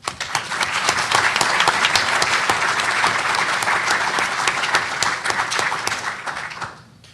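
An audience at a political blog session panel applauds steadily for several seconds, with dense, close clapping that fades out at the end.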